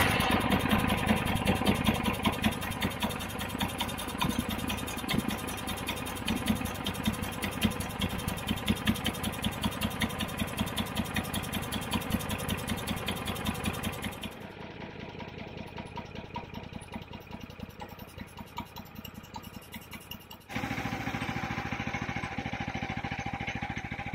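A small wood chipper engine cranks, catches and settles into a steady idle, the tone shifting once or twice as the throttle is adjusted.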